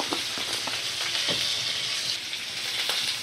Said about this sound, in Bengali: আমি ফুলকপি আর আলু মিডিয়াম ফ্লেমে রেখে ভালো করে ভাজা করে নিই